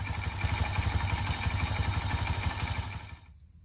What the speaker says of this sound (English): Okay, first start. She's running. I'm gonna let it warm up